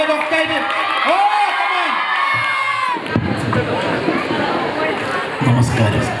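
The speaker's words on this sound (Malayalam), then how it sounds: "ഒന്ന് നന്നായി കൈയടിച്ചേ. കാസർഗോഡ് പവർ കാണിച്ചു കൊടുക്ക്." Excited crowd at a Kasaragod school alumni gathering, Govt. Muslim High School 1987-88 batch, cheering, whooping and shouting loudly throughout, with children's voices and a melodic musical tone early on, then dense hubbub and cheers after.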